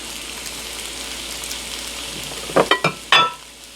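Noodles stir-fried for chicken chow mein sizzle steadily in a pan, then a few sharp clattering tosses and scrapes burst out near the end.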